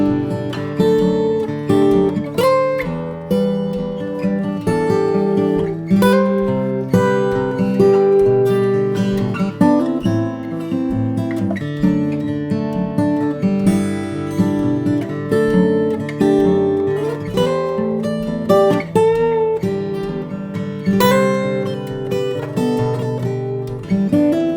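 A solo guitar plays the chorus of a song in a steady fingerpicked pattern of ringing chords and melody notes, close and clear, with no voices.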